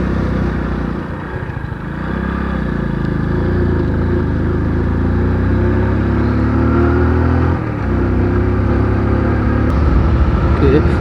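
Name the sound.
100cc motorcycle climbing a slope in second gear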